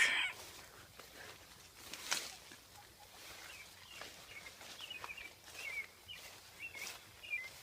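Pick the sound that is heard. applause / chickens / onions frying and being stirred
chickens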